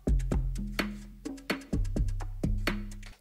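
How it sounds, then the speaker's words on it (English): Full drum groove sample with its low end intact, punchy kick and snare hits with bright hi-hat ticks in a steady looping pattern, booming bass tones ringing under the beat, moderately quiet and alone. "it was originally a full drum groove"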